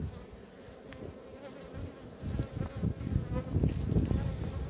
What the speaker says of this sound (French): la pauvre abeille qui m'a piqué